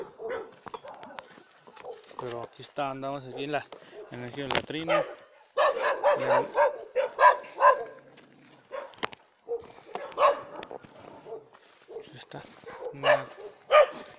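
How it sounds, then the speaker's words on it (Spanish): Village dogs bark at night in the background of an ejido in Mexico, scattered barks rising and falling beneath near, continuous Spanish talk and footsteps. "nomás se oye de fondo los perros que no están acostumbrados a la presencia en la noche."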